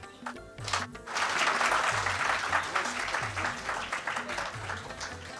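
An audience at a multilingual poetry mushaira applauds as a guest comes onto the stage, a full burst of clapping rising after a brief pause and carrying on over a repeating low musical tone.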